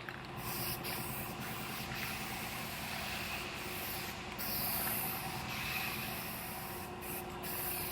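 Guide coat is sprayed onto a truck bedside that has been block-sanded with 320 grit, making a steady, soft, close hiss that rises and falls slightly, with no voices.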